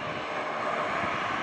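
Roaring engine noise from an airplane at Hartsfield airport, a steady, broad rumble that fills the short moment and never breaks.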